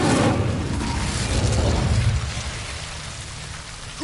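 An Incendio fire spell cast in a wizarding game bursts out as a loud whooshing blast of flame, roaring for about two seconds before tailing off into a softer crackling fade.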